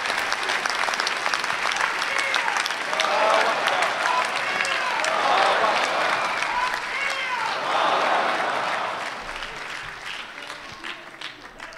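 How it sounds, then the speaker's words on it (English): Sustained applause from a large audience, dense clapping swelling and then gradually tapering off, with a few voices mixed in. "give him a wonderful round of applause for his work"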